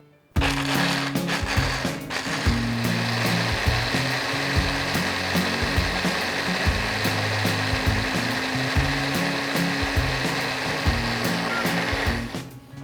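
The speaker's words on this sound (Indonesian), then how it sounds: "Dan kita akan blender hingga halus dan tercampur semua bahannya ya." A blender whirs continuously as it purees chili spice paste with water, starting abruptly and running loud and steady for about twelve seconds with a churning, rhythmic low grind before cutting off.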